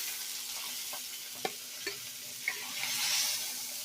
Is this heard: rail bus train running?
no